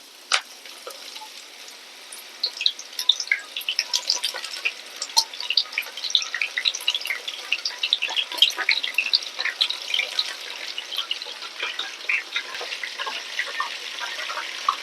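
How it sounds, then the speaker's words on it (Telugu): Soya chunks deep frying in hot oil in a pan on the stove, giving a steady close bubbling sizzle with scattered pops and crackles throughout, with no talk. "నూనె వేడయ్యాక ఇవన్నీ అందులో వేసుకోవాలి."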